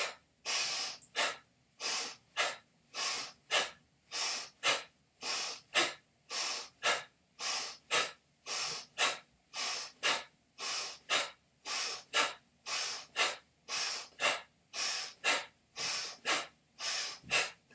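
Slow, steady breathing exercise: about two dozen even inhale-exhale cycles, each breath a clear airy rush close to the mic, repeating in a calm regular rhythm with no talking.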